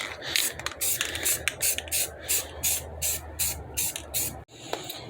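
Spray paint can hissing out a light tack coat onto a wheel rim in bursts of steady spraying with brief pauses, close and fairly loud with no talking.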